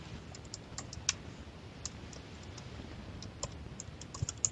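A project name is typed on a computer keyboard, with light, quick, irregular key clicks close by over a quiet background and no speech.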